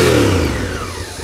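An ADV motorcycle off-road revs briefly as the throttle is opened and the clutch bumped. The engine surges loud and close, then its pitch slides down and fades over about a second.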